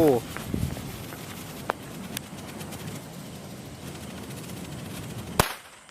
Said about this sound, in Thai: ต่อมาก็คือเจ้าประทัด บัวสามสีนะครับ